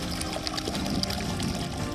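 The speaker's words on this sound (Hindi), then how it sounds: "झरने के रूप में नर्मदा की उद्गम धारा को आप देख रहे हैं।" Source stream of the Narmada river falling as a small waterfall, a steady splashing, pouring wash of water heard close and continuous throughout, with no voices.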